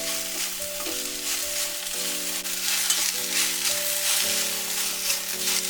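Okra (lady's finger) frying in oil in a pan on the stove, stirred steadily so it does not stick: a constant loud sizzle with tonal hum and scraping under it, no talk.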